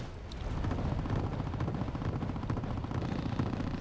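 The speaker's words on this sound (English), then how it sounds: "Firing long range cannons against each other." Long-range naval cannons fire in the wartime strategy game Wargame Red Dragon, a dense, continuous rumble of overlapping heavy blasts and distant booms with no clear gaps.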